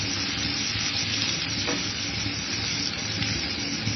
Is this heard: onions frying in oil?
yes